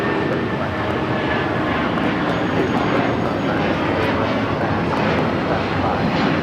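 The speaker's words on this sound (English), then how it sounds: "This is United Airlines 1260 taking off to Denver on the 757-300." United Airlines Boeing 757-300 taking off from Los Angeles airport for Denver, a loud continuous broadband engine roar holding steady throughout.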